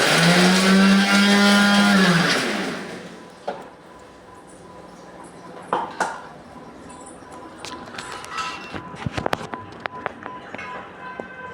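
A kitchen mixer grinder whirs loudly for about two seconds, grinding a bowlful of shelled pistachios, then winds down and stops; a few light clinks and taps of the jar and lid follow in the quieter room.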